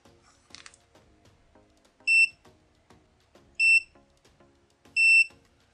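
A GD188 multimeter in continuity test mode gives three short, clean electronic beeps, evenly spaced about one and a half seconds apart, loud and close against a quiet room.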